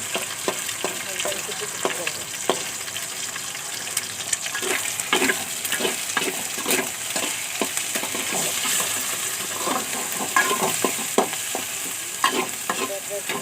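Spices fry in a pan with a continuous loud sizzle while a spoon stirs them, scraping and clicking repeatedly against the pan, with no one talking.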